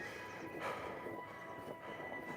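A graffiti-covered train rolls past in a snowy upstate New York winter, giving a steady, continuous rumble of wheels and cars with a faint high squeal running through it, heard alone at moderate distance.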